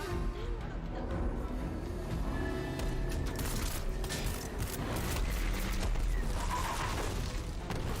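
Rapid gunfire bursts from a futuristic robot shooting video game trailer, dense and continuous over a booming, busy mix of mechanical effects, with no clear pause across the stretch.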